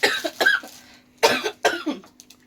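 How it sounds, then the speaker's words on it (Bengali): A person who is unwell coughs close by in three or four harsh bursts, with short pauses between them and no speech. "কাশি হয়েছে, শরীর খারাপ দুজনেরই।"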